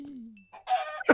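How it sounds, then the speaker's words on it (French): Chicken clucking from a chicken riding a zombie in Minecraft, a short burst of fowl calls heard close and alone, with a brief low tone before it. "il y a un poulet sur un zombie"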